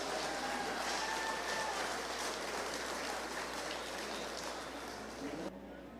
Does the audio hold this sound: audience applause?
yes